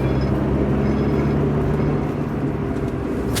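A Rover 25 with an L-series engine drones under acceleration, a steady close-up hum with a firm low growl heard from inside the car, holding fairly constant with no talk over it.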